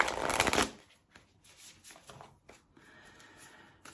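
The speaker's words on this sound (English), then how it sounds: "Give it a shuffle." A Spirit Animal Oracle deck by Colette Baron Reid is riffled in a dense, loud burst at the start, then followed by softer, scattered card taps and slides.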